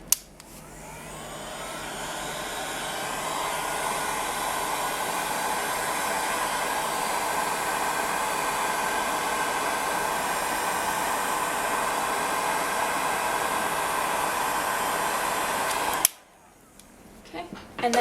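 A heat gun blows a steady, loud whooshing roar over polymer clay for about sixteen seconds, then cuts off abruptly, leaving faint clicks and handling sounds.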